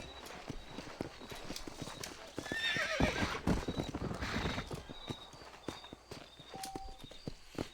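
In the video game Red Dead Redemption, steady clip-clop of horse hooves walking along, with a horse neighing loudly partway through, over faint background ambience.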